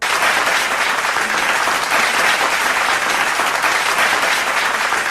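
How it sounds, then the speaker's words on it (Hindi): An audience at a Hindi poetry recital applauds loudly and continuously as senior lyricist Vijay Thakur of Shahjahanpur is welcomed to the stage, a dense, sustained clapping with no break. "आपके ज़ोरदार तालियों के बीच मंच पर आने की दावत देता हूँ"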